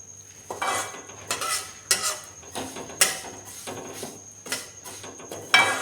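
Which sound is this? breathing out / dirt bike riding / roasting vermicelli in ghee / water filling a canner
roasting vermicelli in ghee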